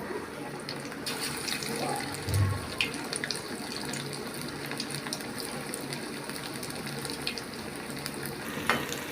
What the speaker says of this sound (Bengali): আমাদের তেল গরম হয়ে গেছে, আমরা একটা বড়া ছেড়ে দিচ্ছি।